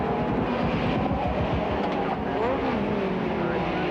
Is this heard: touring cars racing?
yes